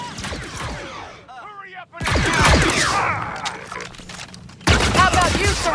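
Enemy blaster fire in the Star Wars Outlaws video game crackles in loud, dense bursts of rapid shots from a small cover area, with a couple of brief lulls and voices over the firefight.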